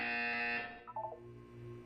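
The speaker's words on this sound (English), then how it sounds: "You will hear a buzzer." Loud, sustained electronic buzz in the Portal 2 video game lasts about half a second before a short fluttering tone sequence and a quiet low hum.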